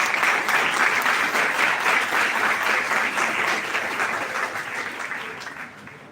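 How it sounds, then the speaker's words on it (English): An audience at a university event applauds to welcome a guest speaker, a full, dense wash of clapping that holds steady and then gradually tapers toward the end, with no talking over it. "And welcome him with applause."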